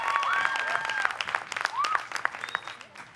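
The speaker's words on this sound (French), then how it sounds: "On peut les applaudir quand même." Audience clapping for the finalists at the GALOL 2019 event, a dense round of applause with whistle-like tones running through it, fading toward the end.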